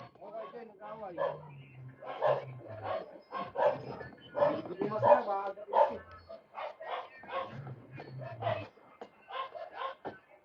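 Several dogs bark, yap and whimper in an agitated scuffle, with people's voices talking and shouting over the commotion.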